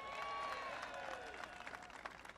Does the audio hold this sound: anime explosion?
no